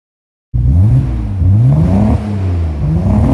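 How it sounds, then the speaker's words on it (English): A 1989 Nissan R32 GTR exhaust bursts in from silence and revs loud and close, rising and falling through several blips in a raspy, continuous roar. "let's see what those pipes can do."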